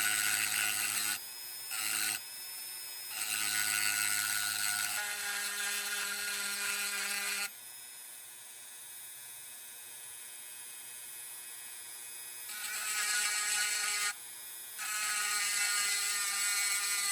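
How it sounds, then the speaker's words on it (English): A Dremel rotary tool grinds down the head of a pin on a vintage Zippo lighter, its high whine starting and stopping in several bursts separated by quieter pauses. "now we're going to take the Dremel tool and try to grind that head of that pin down"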